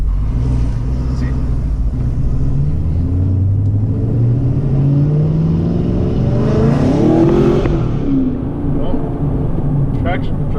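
A Camaro with a free air intake box mod accelerates hard as its wheels spin, a loud, close engine roar rising in pitch and revving, with a person talking over it.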